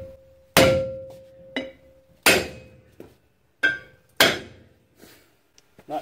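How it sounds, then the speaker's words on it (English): A sledgehammer strikes the rear brake drum of a 2008 Chevy Silverado 1500 in four loud, close metallic blows with ringing decay and clanks, followed by lighter taps. "you can try to whack it with sledgehammer"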